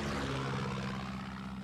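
A propeller plane passes overhead in the video game Far Cry 6, a steady droning engine roar with a low hum that stays even and fairly distant for a moment, with no talk over it.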